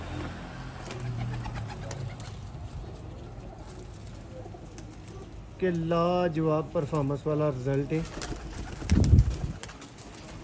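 Sialkoti pigeons coo in soft, rounded, repeated calls near the middle, following someone talking over faint background noise.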